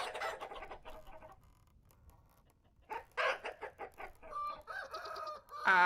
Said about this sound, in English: They're such good chickens.